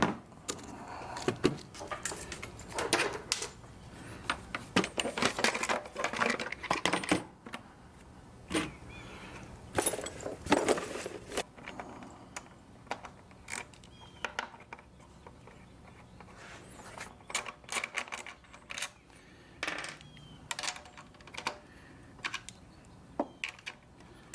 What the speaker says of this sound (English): So let's get the carburetor off and see what's going on.